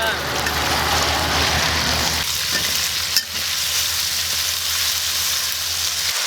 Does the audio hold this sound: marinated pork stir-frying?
yes